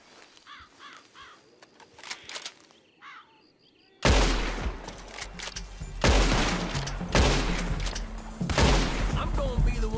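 Gunfire in Red Dead Redemption 2 online, loud bursts of shots and blasts that break in suddenly after quieter bird caws, with repeated heavy reports continuing.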